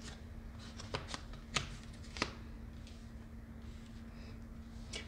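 Tarot cards are shuffled and drawn by hand, with soft riffling and several sharp card snaps spaced irregularly over a low steady hum, close and fairly quiet.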